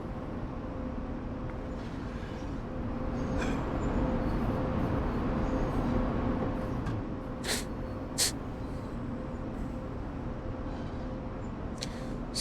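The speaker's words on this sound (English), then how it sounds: "ding, ding, ding signal." Railway warning bell on the Semmering line, heard from the cab of an ÖBB 1116 Taurus locomotive: a few distinct ding strikes ring out around the middle of the clip over a steady rumble of the moving train.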